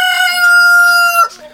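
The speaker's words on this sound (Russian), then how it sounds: "Вот куры. Куры крапиву хорошо едят." A rooster crows loudly and close in a frozen winter hen house at minus forty degrees, one long sustained cock-a-doodle-doo that breaks off abruptly into a short cluck.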